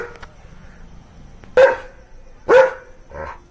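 A dog barks twice, sharp and close, with a pause between, then gives a softer, shorter bark at the end over quiet background.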